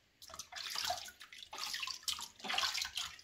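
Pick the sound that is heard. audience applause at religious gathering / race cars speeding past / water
water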